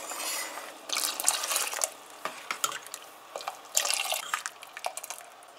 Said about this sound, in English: she's adding 3/4 cup more water now